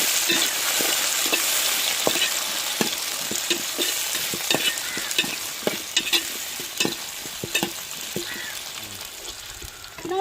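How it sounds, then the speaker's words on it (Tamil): Tomato, potato and eggplant sizzle softly in oil while a spoon stirs and scrapes the pan in irregular clicks and knocks, close by. "தக்காளி உருளைக்கிழங்கு கத்திரிக்காய் வெட்டி வச்சிருக்கோம், அதே எண்ணெயிலே வதக்கி எடுத்துக்கிறோம்"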